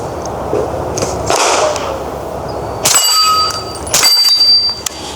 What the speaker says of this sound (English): Let's see what this thing shoot like and what it sounds like suppressed.